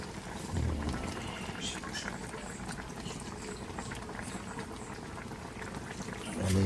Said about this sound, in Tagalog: Tapos ilagay na natin yung gata. Lagay na natin yung gata.